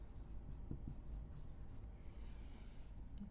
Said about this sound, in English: I'm going to write up here